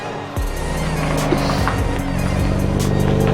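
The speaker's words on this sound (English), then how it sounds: "It's a one-wheeler, but it's an impressive one-wheeler, and it will do burnouts." A BMW E93 revs hard through a one-wheel burnout, its engine roaring loudly and continuously at close range with a rough, rasping edge from the spinning tyre.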